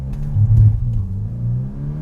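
A 2024 Volkswagen T-Roc R launches hard in sport mode with traction control off, its engine revving loudly and steadily from inside the cabin, a deep, sustained roar rising and holding for two seconds.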